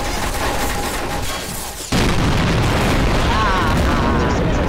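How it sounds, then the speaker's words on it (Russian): A loud bomb blast in a Garry's Mod co-op round with animatronics, erupting suddenly after a quieter stretch and rumbling on with a heavy, sustained roar. "Взорвал всех, погубил"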